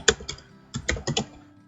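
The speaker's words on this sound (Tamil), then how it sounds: "ஸோ நான் இப்போ வெல்கம்னு டைப் பண்ணுறேன்." Keys on a computer keyboard clatter in short, uneven bursts as a word is typed, close and crisp with brief pauses between strokes.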